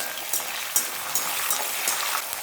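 Split green chillies frying in hot oil in a kadai, giving a steady bright sizzle with small crackling pops, close and loud with no voices.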